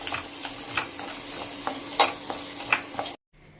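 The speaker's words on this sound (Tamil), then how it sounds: "இப்போ நம்ம சின்ன வெங்காயம் போடலாம். நல்லா வறுத்துக்கு போகிறோம்." Small onions frying in a pan, a steady close sizzle with scraping stirs at intervals, then an abrupt cut to near silence.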